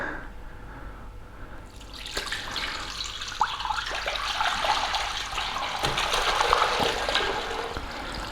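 An elderflower cordial mixture being tipped into a strainer bag pours and splashes in a continuous liquid gush that swells and carries on, with a few drips and knocks.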